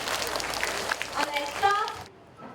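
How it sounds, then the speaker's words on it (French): Schoolchildren in a classroom in India clapping together in a dense, steady patter for about two seconds, with a voice speaking over it, then stopping abruptly. "Maintenant, vous applaudissez tous."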